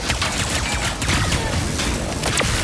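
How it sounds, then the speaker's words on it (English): The Enforcer double-barrel shotgun in a PlayStation game letting off a dense, loud stretch of blasts and booming impacts that fill the whole moment without pause, with no talking over it. "pull the trigger fully and unleash both barrels with a devastating close-range attack"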